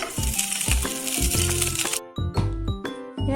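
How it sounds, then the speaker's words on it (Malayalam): Ghee hits a hot pan on the stove with a loud, close crackling sizzle, bursts of spitting and rattling that drop briefly and then flare up again. "ഒരു പാൻ അടുപ്പത്ത് വെച്ചിട്ടുണ്ട് അതിലേക്ക് നമുക്ക് കുറേശ്ശെ നെയ്യ് ഒഴിച്ചു കൊടുക്കാം"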